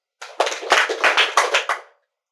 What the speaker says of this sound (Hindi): जिस शक्ति का आह्वान करना है उतनी तालियां बजाना है